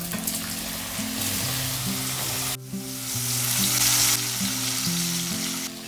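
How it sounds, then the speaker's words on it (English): Chopped mushrooms sizzle and fry in hot oil in a wok for a bok choy stir fry, a loud continuous crackle with music playing underneath and a short break partway through. "When the oil gets heated up, add chopped mushrooms."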